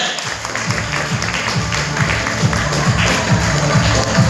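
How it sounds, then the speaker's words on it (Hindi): Applause at a company launch event in Nainital, a loud steady patter of clapping from the audience with a regular low thumping beat underneath throughout. "तो सर कहिए जोरदार ताली हो जाए।"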